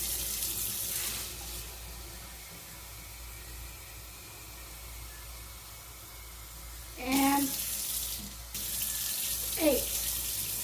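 Tap water runs steadily into a vessel as cups are filled for cooking black beans, a soft continuous hiss with short pauses between pours and brief gurgling, rising notes as each cup fills, heard close up.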